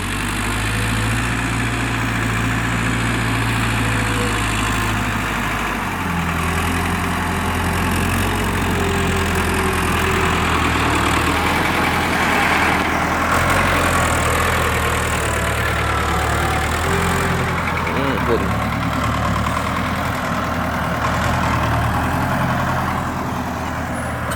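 An engine idles steadily at a low, constant rumble throughout during a pre-paint condition check of a 6600, heard near and continuous with no voices and only slight shifts in tone.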